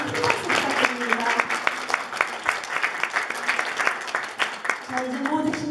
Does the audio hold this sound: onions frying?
no